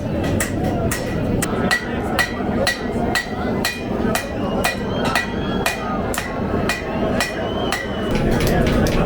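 Hammer blows ring steadily on hot metal at a blacksmith forge demonstration at the Texas Renaissance Festival. The strikes come in a fast, even rhythm, with crowd noise and voices underneath.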